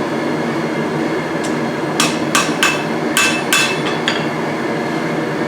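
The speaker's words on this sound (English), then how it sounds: "go ahead and hammer that back in a little more" A blacksmith's hammer strikes hot metal while forging tongs, giving a short cluster of sharp, ringing blows in quick pairs over a steady background hum.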